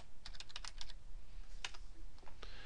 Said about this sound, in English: I'm going to click here and type frequency.